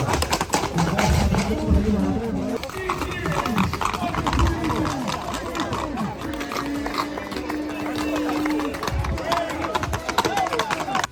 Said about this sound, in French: Comme vous pouvez l'entendre, on va totalement découvrir des courses de chevaux.